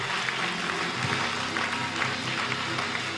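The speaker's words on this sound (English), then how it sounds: "Clap your hands louder." A church congregation claps during a pastoral and bishopric anniversary service, a continuous, busy patter of many hands filling the space at a steady, moderately loud level.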